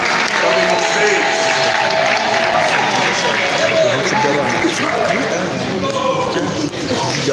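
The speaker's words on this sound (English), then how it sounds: "Can we have a round of applause for Mumbi Lungu" A large audience at a youth summit claps loudly and continuously, applause filling the room without a break.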